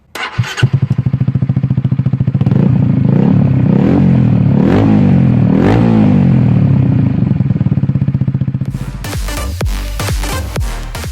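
A motorcycle engine roars loudly up close, revving up and down through several surges before dropping to a rough, clattering idle.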